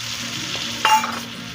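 Ground spice paste frying in a pan for a rohu fish curry with potato, papaya and raw banana, a brief soft sizzle with a scrape of stirring midway, close and quiet.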